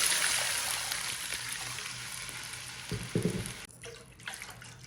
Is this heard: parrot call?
no